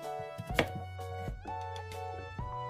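A knife cuts a sweet potato into rounds about 1 cm thick, giving a few crisp, separate chops on a board at an uneven pace over soft background music.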